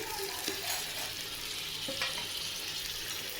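Mutton fries in a ginger-garlic masala for biryani as it is stirred, a continuous close sizzle broken by scraping strokes of the spoon.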